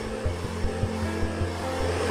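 A hand-held hair dryer blows hot air onto a woman's arms and legs. Its motor gives a steady, close hum with a faint whine, and quick rhythmic pulses recur under it about every fifth of a second.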